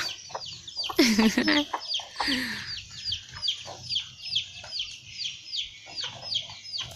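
Chickens cluck in a farmyard, a busy run of short, repeated clucks close by, with a few louder calls early on and voices now and then mixed in.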